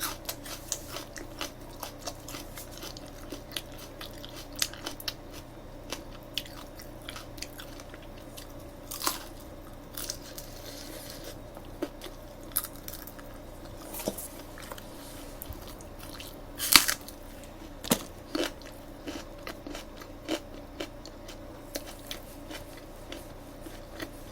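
Quiet, close crunching and wet chewing of fried and sweet-sauced seasoned chicken eaten with raw green onion, irregular soft bites and squishy mouth sounds over a faint steady hum, with no talking.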